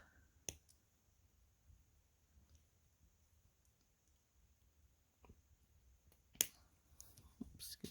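Sharp metal clippers snip through wire on a handmade rose craft piece, giving a few isolated, quiet clicks spaced several seconds apart over a faint background hiss.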